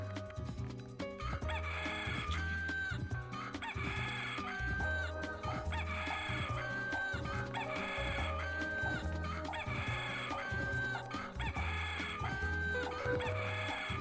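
Chicken clucking and repeated rooster-style crowing from a chicken cookie in the video game We Love Katamari, looping steadily over a busy music track for the whole stretch, loud and close with no talk.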